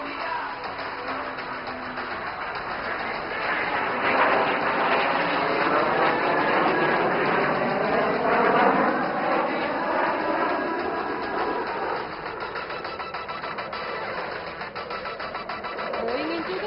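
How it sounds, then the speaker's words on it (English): A jet aircraft performs tight turns and a loop during an aerobatic flying display at Aero India at Yelahanka Air Force Station, its engine giving a steady, sweeping roar that swells and shifts in pitch as power changes, heard at a distance. "The aircraft is now showcasing its ability to take a small radius turn, and it prepares for a loop"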